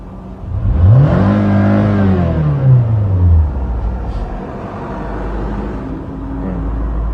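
2014 Nissan Altima engine with a CVT transmission fault, revved up hard and falling back to a rumbling idle, loud and close, with a second smaller blip later.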